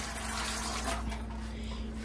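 Water pours steadily into a canning pot holding jars of carrots, a continuous rushing fill that stays close and even for the whole stretch.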